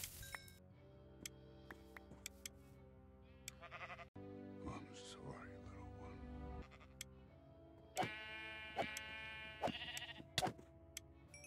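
Sheep bleat in Minecraft, several short bleats mixed with game clicks, ticks and bright tonal chimes, quiet and spread across the whole stretch.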